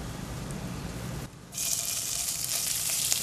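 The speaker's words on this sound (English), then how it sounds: "What we wanna do, we wanna sear this." Meat searing in a hot cast iron pan, a quiet crackle that breaks off for a moment and then bursts into a loud, steady hissing sizzle, close by.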